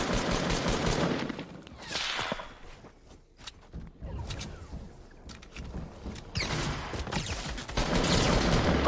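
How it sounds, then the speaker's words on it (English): Gunfire in the Fortnite video game with sniper shots, loud bursts of game shooting and combat effects that die down mid-clip and then come back strongly. "I'm getting sniped on from behind."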